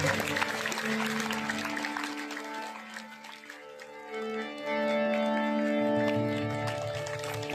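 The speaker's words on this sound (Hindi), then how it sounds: "सब लोग तालियों के साथ आशीर्वाद देंगे।" Audience clapping at a Hindu religious ceremony, the coronation of Shri Ram, in Temri, a steady broad wash of many hands that swells louder in the second half, with music tones running underneath.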